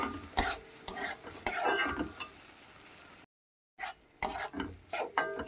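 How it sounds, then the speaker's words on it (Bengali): Spices and tomato sauce are stirred and fried together for a Bombay duck fish curry, with brisk, close scraping strokes of a spoon over a light sizzle, a brief silent gap midway, then more stirring. "টমেটো সসকে একটু বেশি দিয়ে দিচ্ছি ভালো করে একসঙ্গে কষিয়ে নেব"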